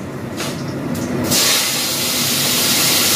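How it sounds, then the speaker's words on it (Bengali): Ridge gourd slices frying in oil with panch phoron give a steady, close hiss that swells louder partway through and keeps going with no voices over it. "দেখো আমি অলরেডি পাঁচফোড়ন দিয়ে ঝিঙেগুলো ভাজতে শুরু করে দিয়েছি।"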